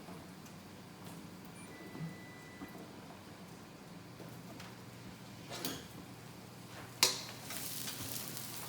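Cubed squash and zucchini cooking in a pan, a steady, faint sizzle and hiss running throughout, with a few soft clicks and one brief sharper clatter near the end.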